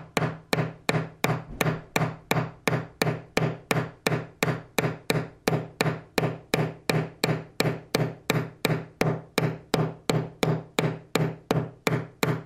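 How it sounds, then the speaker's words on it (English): A heavier riveting hammer strikes a metal jewelry cuff blank in a steady run of about thirty sharp, ringing taps, close and evenly spaced, with no talk. "Now this is a heavier riveting hammer."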